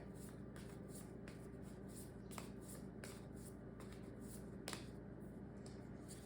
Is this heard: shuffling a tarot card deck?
yes